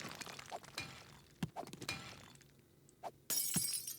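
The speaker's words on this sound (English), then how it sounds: "I didn't know the medicine cabinet dropped stuff when you broke it." A glass medicine cabinet being broken in the survival video game 7 Days to Die gives a string of sharp cracks and knocks, then a bright burst of shattering glass near the end.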